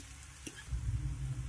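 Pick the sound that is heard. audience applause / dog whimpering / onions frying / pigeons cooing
onions frying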